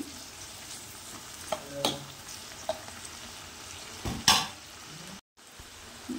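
Tomato and green chilli pieces fry in a pan, a low steady sizzle with a few sharp clinks and stirring scrapes of a utensil against metal, close and fairly quiet, briefly dropping out near the end, no talking.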